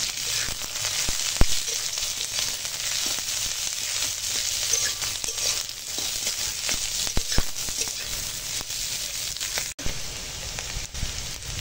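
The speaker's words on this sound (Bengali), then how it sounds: "পেঁয়াজ কুচো দিয়েছি, তার সঙ্গে একটু কাঁচা লঙ্কা কুচো দিয়েছি, দিয়ে একসঙ্গে একটু ভাজবো" Chopped onion and green chili fry in hot oil, producing a continuous crackling sizzle with scattered pops and occasional stirring clicks, close and fairly loud, with no voices.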